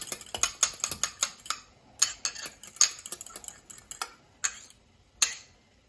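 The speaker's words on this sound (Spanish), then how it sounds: "Ahora este huevo lo casqueamos. Lo batimos un poquito." An egg for pumpkin pie is cracked and beaten in a bowl: a quick series of sharp, close utensil clicks and taps in an uneven rhythm, then sparser single clinks, with no voices.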